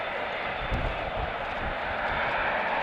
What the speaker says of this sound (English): Okay folks, last plane of the day.